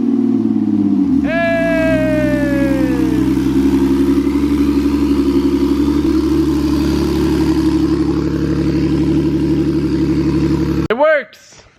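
A freshly swapped car engine, run without its radiator, idles loudly and roughly up close, with a brief rising whine early on, running steadily before cutting off near the end.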